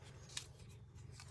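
Scissors snip through paper during fussy cutting for a craft project, with one short, crisp cut standing out over a quiet background hum, close by and with nobody speaking.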